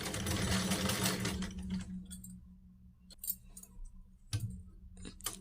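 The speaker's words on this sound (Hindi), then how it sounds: "तो सिलाई लगाते हैं।" A sewing machine runs steadily while stitching a salwar, then stops, leaving a few faint clicks and handling taps of fabric and machine.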